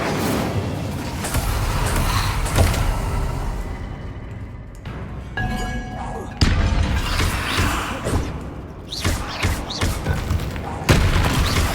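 Incendio fire spells cast repeatedly in Hogwarts Legacy, sounding as loud booming bursts and thuds among other combat effects, with a voice speaking over parts of the fight.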